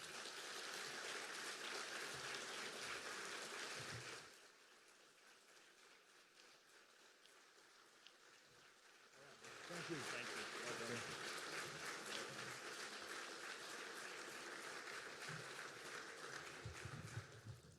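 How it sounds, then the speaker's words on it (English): Audience at a Roanoke, Virginia State of the City address applauding after the mayor's speech, a steady wash of clapping that dips midway and swells again, with a voice briefly speaking over it. "One more round of applause."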